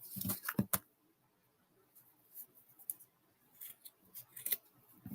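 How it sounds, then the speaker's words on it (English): Large scissors snip through strands of yarn with a few crisp, close cuts at the start, followed by scattered quieter clicks and snips, with no talking. "I need these bigger scissors."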